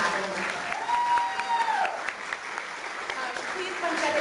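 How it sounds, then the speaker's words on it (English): A conference audience gives a round of applause at an education event, steady clapping filling the space while a voice speaks faintly over it. "deserves a huge round of applause for making this happen"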